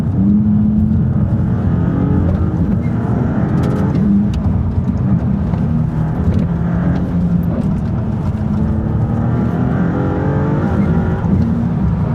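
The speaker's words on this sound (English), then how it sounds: "I was just letting you all enjoy the sound of the engine" A Maserati engine rumbles and revs at low speed, a loud, continuous throaty drone with rising and falling pitch heard from inside the car.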